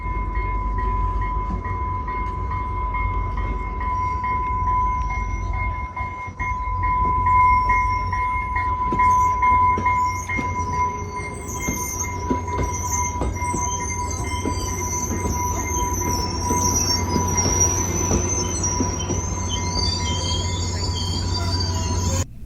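A train engine with its ditch lights on pulls out, a steady rumble of railcars rolling under shrill, sustained wheel squeal and metallic screeching that builds in the second half, heard close by with no talking.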